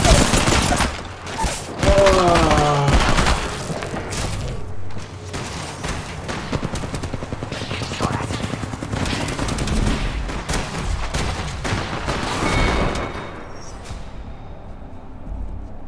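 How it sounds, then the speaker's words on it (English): Dense bursts of gunfire pour down from above in the Apex Legends battle royale game, rapid automatic volleys and single shots overlapping loudly for most of the stretch, with someone speaking briefly between them. "Getting shot at from above."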